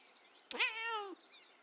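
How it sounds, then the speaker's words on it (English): A confident cat meow from the video game Kentucky Route Zero, one clear sustained cry with a sharp onset that tapers off, close and alone against a quiet background. "Confident meow."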